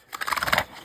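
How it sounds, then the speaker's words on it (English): A piece of paper being pulled from a planner, a short papery rustle and slide of under a second, close and fairly quiet. "Let's pull out a piece of paper."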